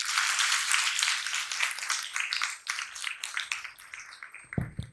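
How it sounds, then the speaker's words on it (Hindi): An audience at a spiritual talk on parents, teachers and students bursts into loud, sustained applause, dense clapping that holds steady and then thins out toward the end. "जोरदार ताली"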